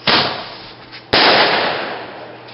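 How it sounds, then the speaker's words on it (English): A firework set off by a voice-controlled igniter gives a sharp crack, then a second louder bang follows about a second later with a hissing, crackling tail. "I'm going to go light up a firework"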